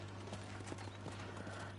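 In the video game Red Dead Redemption, horse hooves clip-clop in a quick, steady rhythm, faint beneath a constant low hum.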